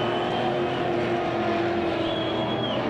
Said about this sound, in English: Hear the roar of these V8s.